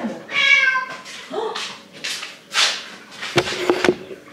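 A domestic cat meows several times indoors, with clear, tonal, close-up calls spread across a few seconds, ending with a few sharp knocking or clattering sounds nearby.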